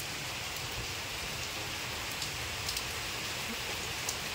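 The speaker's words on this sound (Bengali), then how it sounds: "এইরকম বৃষ্টি পড়েই যাচ্ছে" Heavy, continuous monsoon rain pours down as a steady, dense hiss, with a few sharper drips and patters landing close by and no voices.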